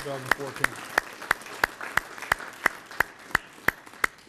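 Slow, evenly spaced claps ring out at an NAACP annual meeting in Dayton in honour of volunteers, about a dozen sharp, distinct hand claps in a steady rhythm, with a brief voice at the start.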